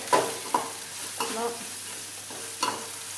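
Mustard seeds fry and pop in hot oil in a pan while cooking a mushroom stir-fry. Sharp crackles and spatters break out every second or so over a steady sizzle, with no talk.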